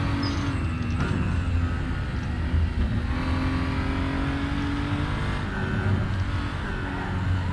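A BMW 235i racing around the Bilsterberg circuit in the Raceroom sim: a steady, loud engine drone with rising and falling revs and gear changes, heard continuously and close, with no talk.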